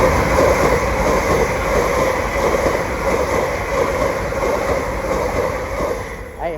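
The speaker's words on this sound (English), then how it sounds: "Passing through now is a LNER service from Edinburgh to London King's Cross." An LNER train from Edinburgh to London King's Cross passes through Doncaster station on the East Coast Main Line, with a loud, close, sustained rumble and tonal hum that eases slightly toward the end.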